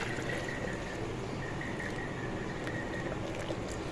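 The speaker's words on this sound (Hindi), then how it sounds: "अब इसमें जाएगा पानी।" Water pours steadily into a bowl of gram flour and yogurt batter for a Punjabi karhi pakora, a continuous soft splashing trickle at close range with no talk.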